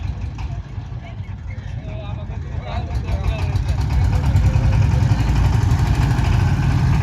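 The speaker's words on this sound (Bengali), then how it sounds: "ইঞ্জিন আবার স্টার্ট করা হয়েছে" A steady, low boat engine drone chugs continuously and grows slightly louder at a ferry crossing choked with water hyacinth, with voices talking over it.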